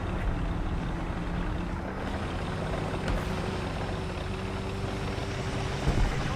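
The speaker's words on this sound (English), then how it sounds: "You can hear his engine. Very loud." Loud steady vehicle engine drone in a multiplayer shooter game, a continuous low rumble that holds at an even level throughout with a slight bump near the end.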